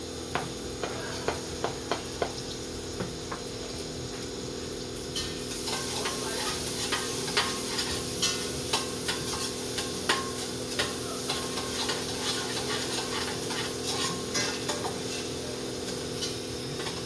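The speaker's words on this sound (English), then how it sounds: "So let's start frying it here." Ingredients for a creamy mushroom soup frying in a pan, a steady hiss that grows louder after a few seconds and carries frequent small ticks and crackles throughout, close and without talk.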